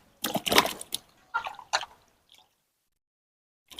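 Raw mangoes being washed by hand in water, with a few close splashing, squelching bursts over the first two seconds before the sound falls almost silent.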